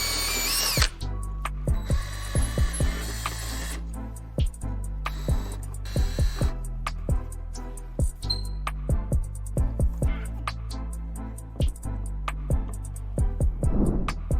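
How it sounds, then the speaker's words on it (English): Power drill boring a hole for a ceiling-mounted backdrop, whirring in repeated short bursts with stops and restarts, close and fairly loud, no talking. "I'm going to go ahead and turn this sideways so that it will leave room for me to drill the second hole."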